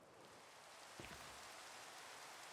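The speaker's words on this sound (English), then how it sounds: "All right, is it rain?" Rain falls in the Minecraft video game as a steady, even hiss of raindrops that continues evenly throughout, with a brief low thump near the middle.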